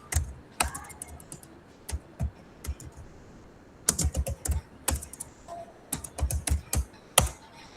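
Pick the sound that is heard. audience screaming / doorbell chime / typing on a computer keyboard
typing on a computer keyboard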